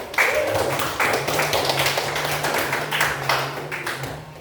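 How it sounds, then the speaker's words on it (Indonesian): Schoolchildren clapping together in a primary school classroom, a close, irregular run of hand claps with voices mixed in underneath. "Tepuk tangannya dulu."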